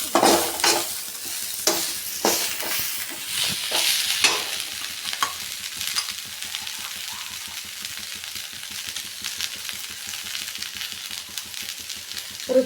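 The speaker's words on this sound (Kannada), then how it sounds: "ಹೂ ಸ್ವಲ್ಪ ಫ್ರೈನಲ್ಲೇ ಬೇಯಬೇಕು." Moringa flowers fry in a pan for a spiced greens dish, with steady sizzling throughout. A series of sharp scraping stirs comes early, then gentler, sparser stirring follows, with no talking.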